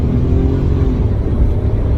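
A Rover 827SLi car pulling forward under acceleration: a steady low engine drone with a faint rising whir, heard from inside the cabin.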